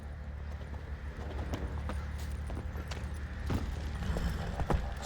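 Roach the horse trotting in The Witcher 3 game, with a steady, close clip-clop of hooves over a low ambient rumble, joined by faint tack jingles and no speech.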